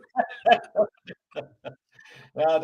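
Dogs whimper and give short yips and barks in a run of separate bursts, close by, with a voice briefly mixed in.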